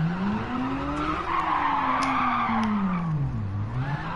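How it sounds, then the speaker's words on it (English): Porsche tires screeching through burnouts in Gran Turismo 7, one long wavering squeal that rises and dips in pitch over a steady engine drone, loud and close with no talk. "It's just Porsche's doing some burnouts."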